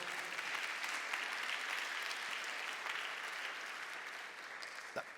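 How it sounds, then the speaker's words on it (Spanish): A church congregation at a Spanish-language sermon claps together, a continuous, fairly faint wash of applause heard from a distance, with a single sharper knock near the end. "Denle un aplauso fuerte al Señor."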